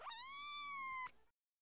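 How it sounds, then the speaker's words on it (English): A kitten gives a single clear, high meow lasting about a second, close and alone, ending abruptly. "Kitten,"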